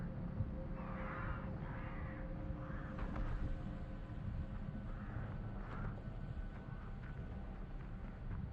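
Crows caw a few times at a distance in a video game, short raspy calls scattered over a steady low rumble of wind or engine-like ambience.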